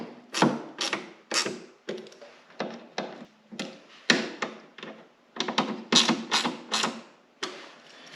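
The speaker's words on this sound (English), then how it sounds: "I'll snug them up with a little ratchet so I know how much I'm tightening them" A small ratchet tightens fasteners in quick bursts of rapid clicking, about a dozen short close-up runs separated by brief pauses, loud and crisp with no talk.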